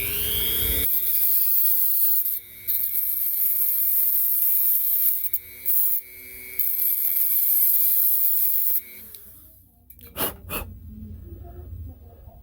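Hand trimming of a part during a wheel swap: a steady, loud rasping scrape runs for about nine seconds with short pauses, then stops, followed by a few faint knocks and handling sounds.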